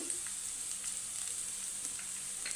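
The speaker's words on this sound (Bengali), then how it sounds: "সরিষার তেল দিয়ে হালকা করে ভেজে নিব" Onions frying in mustard oil in a pan, a constant, fairly soft sizzling hiss with faint pops, heard alone.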